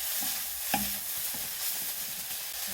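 Korean seasoned vegetable namul tossed with sesame oil in a pan, stirred with a steady soft scraping and light sizzling hiss, one brief clack of the utensil, close and continuous, no talking.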